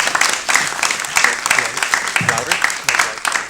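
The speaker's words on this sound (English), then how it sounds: "Let's give Sock a big local round of applause." An audience at a film festival Q&A screening applauds a guest, a burst of clapping with distinct claps close by, heard together with speech and voices.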